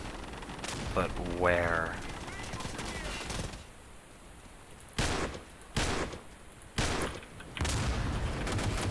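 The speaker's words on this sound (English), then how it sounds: "they got a machine gunner" Machine-gun fire in the WWII shooter game Day of Infamy: loud bursts of shots that come and go, with a short spoken question and other battle noise in between.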